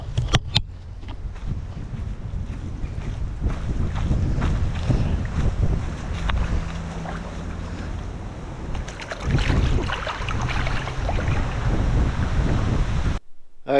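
Strong wind buffets the microphone outdoors beside the Murray River at Mannum, with a constant low roar and gusts, louder bursts near the end, with water and waves faintly beneath.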